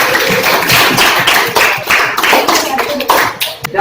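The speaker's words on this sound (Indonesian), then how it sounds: "berikan tepuk tangan dulu untuk kelompok 1" Classroom applause for a group that has just presented, with uneven clapping in short bursts of hands close by, some taps and voices mixed in.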